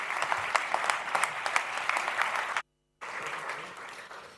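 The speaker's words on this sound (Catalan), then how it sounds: "Rebem amb un gran aplaudiment" Warm applause at an industry congress welcomes a speaker to the stage, brisk clapping from a sizable audience that briefly cuts out before resuming.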